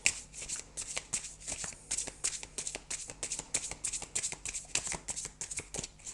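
Tarot zen cards are shuffled and handled in a steady run of crisp, papery riffling bursts, close and moderately loud, with no talking.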